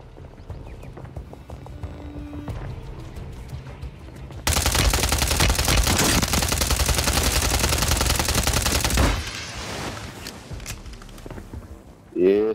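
Video game gunfire: a dense, loud burst of rapid automatic shots runs for several seconds in the middle, with quieter game sounds before and after and a short sharp sound at the very end.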